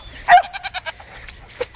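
Goats on a homestead bleat in a quick series of short, nasal cries up close, a louder call first followed by several shorter pulses, then one more bleat near the end.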